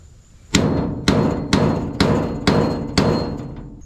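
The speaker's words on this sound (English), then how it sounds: "you can take a hammer and a chisel and pound the top off" A hammer strikes a chisel to knock the head off a seized carriage bolt on a Ford truck bed, six loud, ringing metallic blows spaced about half a second apart, close and alone.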